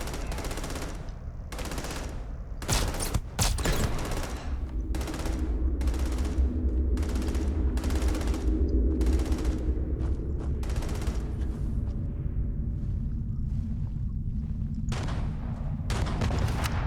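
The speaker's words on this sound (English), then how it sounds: "Or are they shooting at Sam?" Sustained automatic gunfire in the video game Starfield, dense rapid bursts and sharp shots firing almost nonstop, loud and close throughout.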